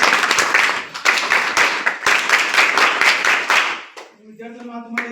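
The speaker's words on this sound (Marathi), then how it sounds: "त्यावर सगळ्या मुलांसाठी टाळ्या झाल्या पाहिजे" An audience at a school event claps for the students, a loud burst of applause that fades out as a single voice starts speaking.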